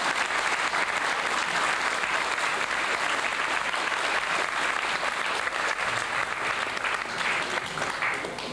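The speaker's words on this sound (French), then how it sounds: "on peut donner de sérieux applaudissements à notre ami Moïse Fuginier et à toute son équipe" Sustained, dense applause from a large crowd at a French gathering for a tour of the Haut Var, with loud, even clapping throughout the clip.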